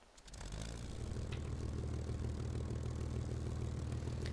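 A plane engine starts up in War Thunder, a brief cough at the start settling into a steady, low, even drone, fairly quiet with no talk.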